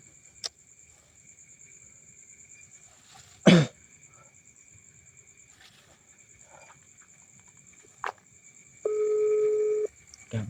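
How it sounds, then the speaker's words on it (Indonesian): A phone call tone sounds as a single steady beep lasting about a second near the end, after a mostly quiet stretch broken by a few sharp knocks and faint noises. "Coba telepon sekali lagi lah."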